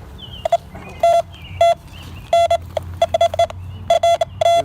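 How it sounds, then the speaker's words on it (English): Repeated electronic beeps from a metal detector sweeping over ground on Birch Island dig site, short bursts and longer sustained tones in an irregular rhythm, close and fairly loud over low background rumble. "have a nice sustained beep there, so I think we can dig here"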